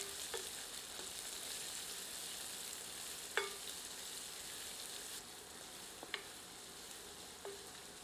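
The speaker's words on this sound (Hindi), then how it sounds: "तत्पश्चात प्याज सम्मिलित करते हैं। इसे मध्यम आंच पर भूनकर सुनहरा कर लेते हैं।" Onions fry on medium heat in a pan, giving a steady, soft sizzle throughout with a few faint clicks of stirring.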